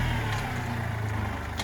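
A Kubota tractor engine moves dirt, a steady low diesel drone with a constant rumbling hum, close and even throughout.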